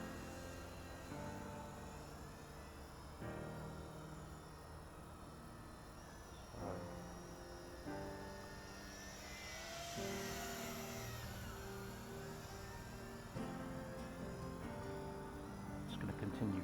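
JJRC H16 Tarantula X6 quadcopter with modified landing gear in flight: a steady, faint, high-pitched rotor whine that holds through the whole stretch with slight shifts in pitch as it manoeuvres.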